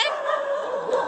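A dog barks and yelps nearby at an open plot, a short whining, tonal call that is fairly loud and close, with no talk over it.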